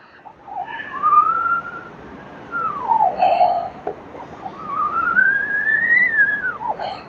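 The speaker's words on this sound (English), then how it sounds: "Just enough pressure to get a whistle at about 2 seconds." A screen-printing squeegee pulled under pressure across a screen while printing simulated process blue on a black tri-blend shirt gives off a loud, sustained whistle that rises and falls in pitch through most of the stroke.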